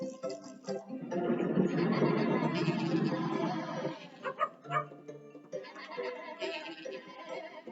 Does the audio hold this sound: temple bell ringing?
no